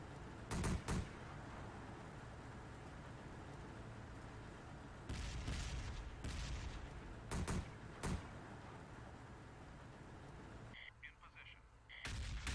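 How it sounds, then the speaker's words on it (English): Mortar shells land in the war game Close Combat: The Bloody First, a series of sharp, distant-sounding blasts spaced irregularly over a low ambient hum, with no speech. "mortars dropping a little bit far off their targets"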